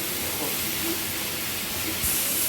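Water poured into spice paste frying with turmeric and salt in a pan, giving a steady, loud broadband hiss of steam that swells briefly near the end.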